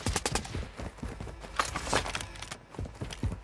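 Rapid gunfire in the Warzone video game, dense bursts of automatic shots with a few louder cracks, continuous and close throughout.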